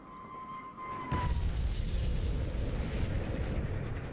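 Aerial bomb dropped by a naval aviation plane in archival footage, a sudden deep boom after a faint whine, then a sustained loud rumbling roar that persists to the end.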